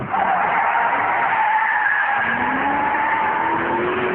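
Interior sound of a supercharged Ford Shelby accelerating hard through the gears, a steady rising engine roar with a whining tone that climbs in pitch, loud and continuous with no talking.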